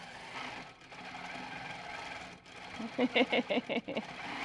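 A quilting machine stitches a landscape quilt in a rapid train of about six short, evenly spaced mechanical bursts near the end, after a stretch of faint room noise.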